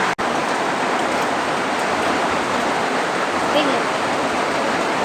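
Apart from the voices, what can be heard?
heavy rain, rainwater pouring into house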